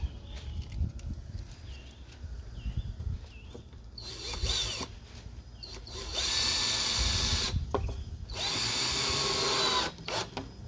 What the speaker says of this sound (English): put the block in the corner, and literally don't measure, don't clamp, I just screw it on.